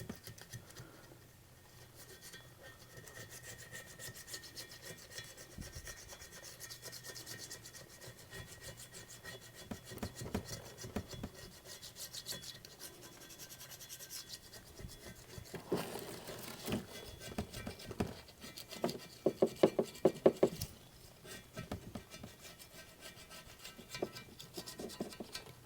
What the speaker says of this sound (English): I'm going to go ahead and take my little scraper first, which is simply a piece of, or a razor blade